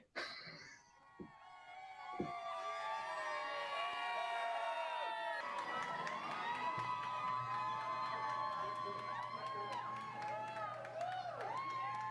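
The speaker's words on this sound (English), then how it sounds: "That moment you hear the crowd going insane" A crowd at an outdoor art event cheers and shouts at sundown, rising into a sustained loud roar with whoops, as people talk nearby.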